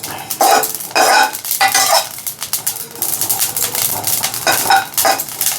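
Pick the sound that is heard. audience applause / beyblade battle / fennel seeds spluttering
fennel seeds spluttering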